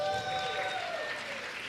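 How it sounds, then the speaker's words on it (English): A room full of people at a school board meeting claps in steady applause for a short stretch, with some faint noise from the crowd mixed in. "give yourselves a round of applause"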